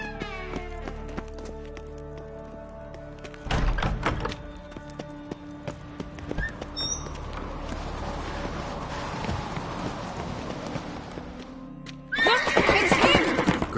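A horse in The Witcher 3: Wild Hunt gives a loud, close whinny, then hooves clop and thump in bursts amid game ambience, ending in another strong neighing outburst.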